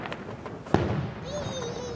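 A Fourth of July firework booms once at a distance, followed by a lingering rumble and a thin whistling trail, while people talk nearby.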